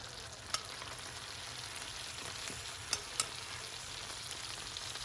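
Flour cooking in melted butter in a pan for a lasagna sauce, a steady soft sizzle with a few sharp clicks of a utensil against the pan, faint and alone.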